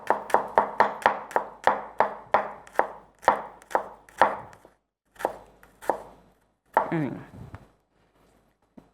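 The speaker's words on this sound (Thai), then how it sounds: "หอมแดงซอยเล็ก ๆ บางๆ เลยเนาะ" A knife thinly slices shallots on a board, a rapid run of close, crisp cuts that slows to a few separate strokes.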